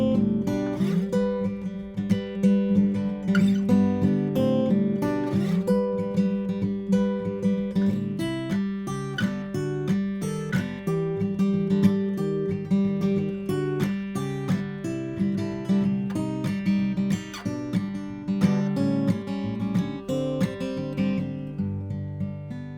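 Acoustic guitar playing a song in a folk brushing style, with steady rhythmic strums and picked notes continuing for over twenty seconds at moderate volume, with no talking.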